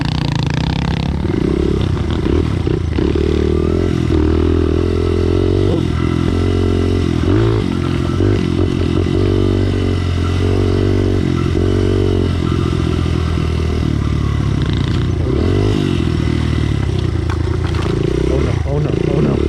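A Honda pit bike engine revs and roars up close for the full stretch, rising and falling in repeated throttle bursts with mechanical clatter and scraping as it rides uphill; people talk and shout over it.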